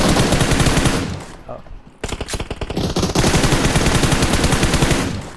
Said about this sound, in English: Outlaws Abhishek is under gunfire from squad number 20